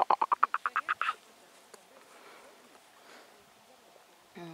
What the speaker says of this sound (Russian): Лягушка ты.